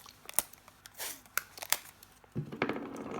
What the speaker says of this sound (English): Let me just get some tape ready.